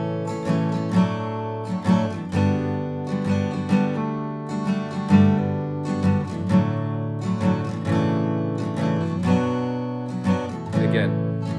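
Acoustic guitar strumming the chorus of a song, steady rhythmic chord strokes with ringing sustained notes, close and clear with no voice.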